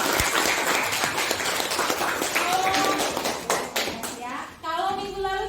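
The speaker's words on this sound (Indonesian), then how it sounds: "Tepuk tangan dulu buat Priska." A classroom of students claps for a classmate in a loud, dense burst of applause that thins out toward the end. Children's voices and a teacher speaking mix in near the close.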